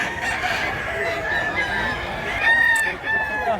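Roosters crowing amid the clamor of a chicken market where sellers prepare their birds, overlapping calls with one stronger crow near the end over a constant layer of market chatter and clucking.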